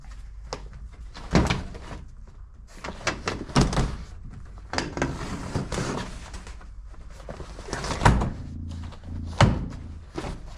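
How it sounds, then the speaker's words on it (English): Rolling back a truck tray's tonneau cover, a series of loud clunks and rattling thuds from the cover and rubber liner, with scraping and knocks in between, close by and without talk. "so I'll roll the tonneau back, pull the rubber liner out,"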